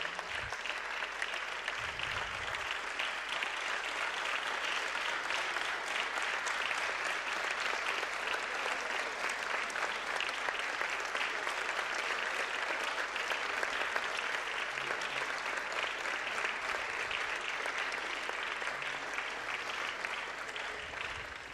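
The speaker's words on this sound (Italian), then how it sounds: "l'applauso spontaneo di tutti i senatori dell'Aula e del Governo" Senators in the Italian Senate chamber applaud together in a sustained, dense, even burst of clapping that holds steady throughout, with no speech over it.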